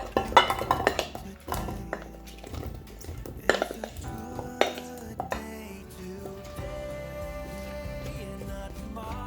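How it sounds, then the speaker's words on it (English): Potatoes being placed into a baking dish, with a busy run of clinks, knocks and ringing metallic and ceramic taps from dish and utensils. Most of it is close and clear, and it thins out toward the end. "Place the potatoes in a baking dish."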